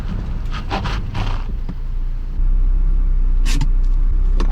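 An Acura RSX Type-S car brakes hard from speed, with road and wind noise that gives way to a loud, steady low rumble as the car decelerates. Nobody speaks.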